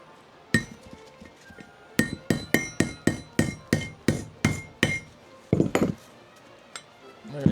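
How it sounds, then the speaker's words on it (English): Copper hammer striking a spacer to drive a bearing out of a GSX-S125 motorcycle sprocket carrier: about a dozen sharp metallic knocks, one isolated blow then a steady evenly spaced run, ending in a quick cluster of taps. "I'm knocking the bearing out, and I'm just using this spacer turned round with a copper hammer to knock it out with"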